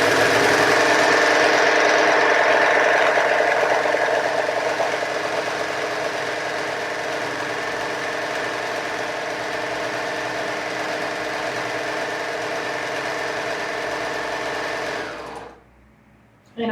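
A serger runs in a long, steady, loud whir as it sews African print fabric, then stops abruptly near the end, leaving brief quiet.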